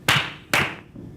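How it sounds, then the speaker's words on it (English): Two sharp, close hand claps about half a second apart, each ringing briefly in a room, followed by a much fainter third tap. "I love clapping."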